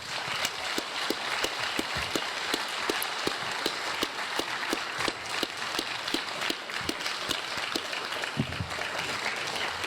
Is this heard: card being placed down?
no